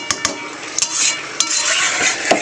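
Chicken curry is stirred and fried in a pan: a continuous sizzle with several sharp clinks and scrapes of a utensil against the metal, close and fairly loud, no talking.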